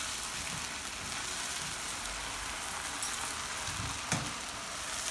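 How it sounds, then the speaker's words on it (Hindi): Chicken pieces fry in a pan of hot oil for a qurma, making a dense, even hiss and crackle with a couple of louder pops and no voices. "फ्राई करके चिकन को मैं निकाल दूंगी, फ्राई होने दे रही हूँ मैं।"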